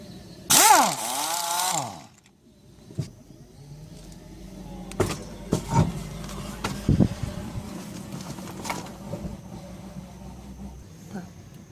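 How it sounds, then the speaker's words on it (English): A pneumatic air tool zips loudly in one short high whine while a rear wheel comes off a 2005 Chevrolet Uplander, followed by quieter clanks and handling noises in a garage. "I can use air tools, so it's going to be much easier"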